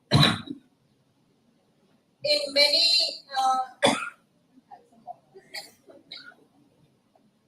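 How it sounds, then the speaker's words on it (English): A person coughs and clears their throat a few times at close range, with brief speech between the coughs. "been suffering from this cough"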